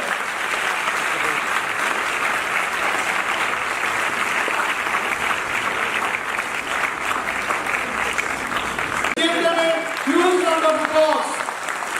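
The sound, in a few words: audience applause for female expert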